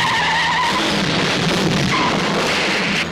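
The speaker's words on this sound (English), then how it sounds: "Ooh, I better test the brakes." A car brakes hard with tires skidding and squealing in a 1970s film scene, a loud sustained screech with a second squeal near the end over engine noise and no talking.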